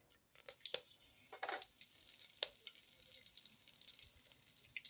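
Curry leaves drop into hot oil for kadhi and sizzle and crackle in quick, sharp pops. The sound is faint and close.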